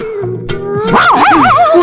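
A close, loud dog gives short yips that rise into a wavering, whining yelp lasting under two seconds.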